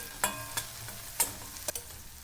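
Spiced eggplant bharit mixture with turmeric, coriander powder and chilli frying in a pan, stirred with a few distinct scraping strokes over a low, steady sizzle.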